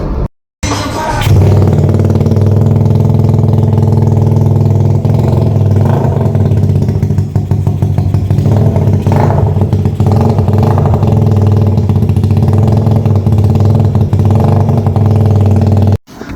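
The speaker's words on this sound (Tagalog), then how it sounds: "Sobrang namiss ko yung tunog ng tambucho" A motorcycle engine with new wiring starts and runs steadily, a loud, throaty exhaust drone held close for many seconds before cutting off.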